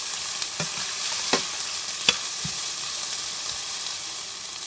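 A whole onion frying in a pot for a pumpkin and saltfish stew, a steady broadband sizzle with a few sharp clicks of a utensil tossing it around, close and continuous, no talking.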